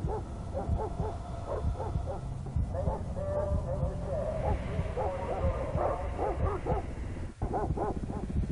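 Repeated dog barks from a dog in a Call of Duty: Ghosts-style game scene, sounding steadily over a constant background bed of game noise and voices throughout.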